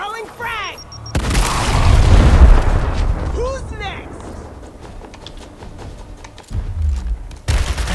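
Frag grenade blast in the video game Gears Tactics, a heavy booming explosion with a rumbling tail, then a second deep boom later, surrounded by voiced character speech and game effects.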